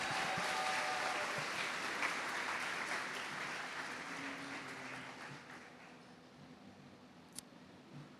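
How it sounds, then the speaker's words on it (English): Audience applause at a school graduation ceremony, a steady wash of clapping that starts full and gradually thins and fades over several seconds, with a few louder isolated claps near the end. "Another round of applause, please."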